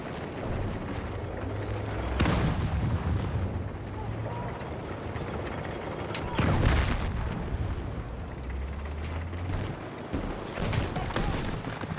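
Gunfire and heavy booms in the video game Battlefield 6, with bursts and explosive thuds near the start, around the middle and again later, over a constant dense rumble of battle noise.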